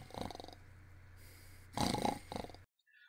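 A voice imitating snoring in an audiobook reading, a few rough, rasping snorts and breaths, close and fairly quiet, ending abruptly.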